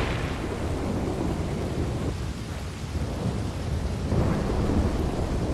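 Stormy weather in Red Dead Redemption 2, where rain pours steadily while low thunder booms rise twice, the second louder and closer, with no voices.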